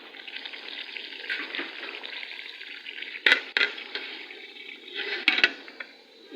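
Chicken and tomatoes with spinach cooking in a covered pan over a low flame, giving a steady soft sizzle and bubbling with a few sharper clinks or pops partway through.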